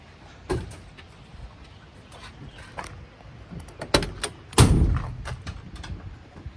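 A solid thud of a 1971 Ford Bronco's door shutting stands out among scattered clicks and knocks inside a quiet vehicle cabin.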